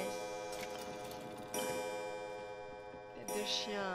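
Pendulum clock in the Resident Evil 7 video game, ticking steadily over layered game music and ambience, with faint talk in the background.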